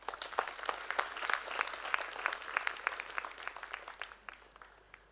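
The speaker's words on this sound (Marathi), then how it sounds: "ह्या आईला पण जोरदार टाळ्या" An audience at a memorial lecture breaks into applause, a dense patter of many hands clapping together for several seconds before tapering off, moderately distant and fairly soft.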